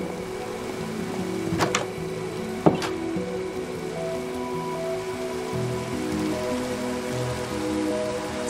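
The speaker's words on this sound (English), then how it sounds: "It's clearly coming down out there" Continuous video game rainfall in a detailed Minecraft city patters steadily, with two sharp knocks early on standing out above the even wash of drops.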